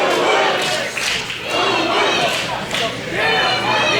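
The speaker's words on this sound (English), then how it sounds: "I hear people yelling for Pretty Boy Smooth, yelling for Mikey, yelling for Facade" A mixed crowd at a wrestling match yells and roars loudly and continuously, surging in waves of shouting and cheering for different wrestlers.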